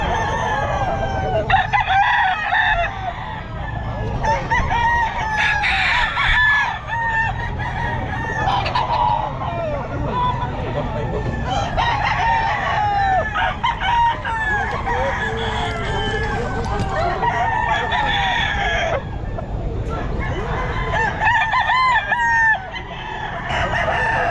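A round-head ball stag rooster crows repeatedly at a busy pet market in Bocaue, loud and close, with overlapping clucks and calls from other fowl and a steady crowd murmur beneath.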